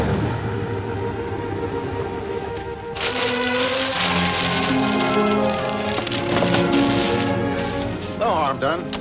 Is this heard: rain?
yes